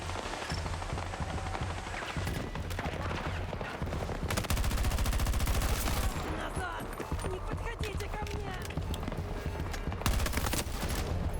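Video game gunfire, sustained rapid shooting and bursts of automatic fire that run almost without a break, loud and close, with talk mixed in.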